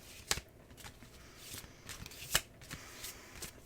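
Tarot cards shuffled by hand at close range, soft riffling bursts with a few sharper snaps at the start and midway, all fairly quiet.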